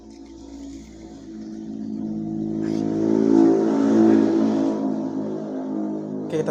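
A car engine warming up idles steadily, its low hum rising slightly in the middle and then settling, with a brief click near the end.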